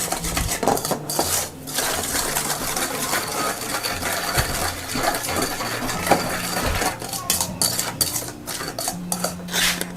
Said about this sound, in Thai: แล้วคนส่วนผสมให้เข้ากันค่ะ